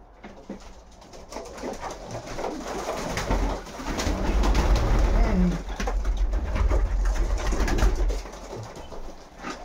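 Racing pigeons coo close by, soft throaty calls over rustling and scuffling noises.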